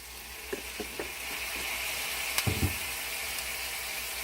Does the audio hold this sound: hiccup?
no